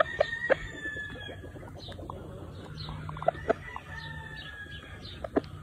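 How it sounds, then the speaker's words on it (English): Chickens and roosters on an Oklahoma farm cluck and give short calls in scattered bursts, some sharp and close, over a steady low barnyard background. "There's really good all around chickens right here."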